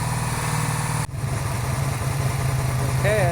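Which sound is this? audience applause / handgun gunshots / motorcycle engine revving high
motorcycle engine revving high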